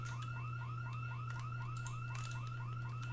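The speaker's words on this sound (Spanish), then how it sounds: "¿Se escucha una alarma?" A repeating electronic building alarm in the video game Project Zomboid chirps in rapid, evenly spaced upward whoops over a constant low hum, steady and unbroken, with no voices.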